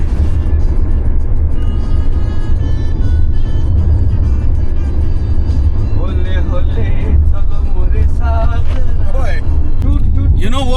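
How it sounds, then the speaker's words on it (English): A Hyundai Tucson driving on the road at night, a steady loud low engine and road rumble heard from inside the car throughout, with voices talking over it. "We are driving all night today again, once again repeating whatever we did in the past."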